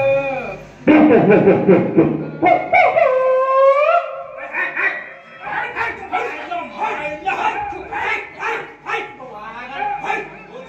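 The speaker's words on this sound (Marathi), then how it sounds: "अरे ही गावातली कुत्री ओळखीच्या माणसावर बोलतात." Dogs barking in a village scene of a comic Marathi folk theatre (vagnatya) performance, loud repeated barks and yips mixed with raised voices and talk throughout.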